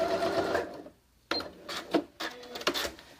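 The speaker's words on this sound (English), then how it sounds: "Okay, back stitching." A sewing machine back stitches a Christmas stocking in short bursts of needle clatter, with a brief pause between stitching runs; close and fairly loud.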